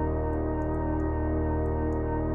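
A sustained synthesizer tone drenched in reverb with the mix at 100%, a steady droning chord with a washy, echoing tail and faint high clicks on top.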